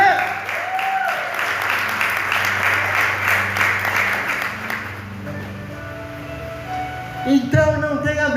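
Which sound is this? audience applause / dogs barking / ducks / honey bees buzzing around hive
audience applause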